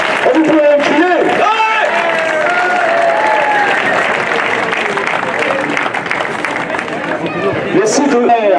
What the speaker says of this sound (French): vous vous levez tous et vous les applaudissez